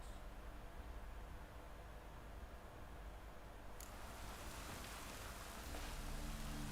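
Steady rain pours down in The Witcher 3: Wild Hunt, a dense, even hiss that fills the scene, growing a little brighter and fuller partway through, with no voices.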